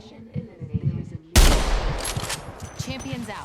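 Gunfire from a video game gun erupts suddenly in a loud, dense burst partway through, following a quieter stretch of game sounds and low voice-like murmur, then trails off into sustained rumbling noise.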